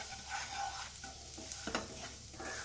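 Semolina roasting in ghee over a low flame for moong dal halwa, a quiet, even sizzle broken by light scraping strokes of a stirring spoon.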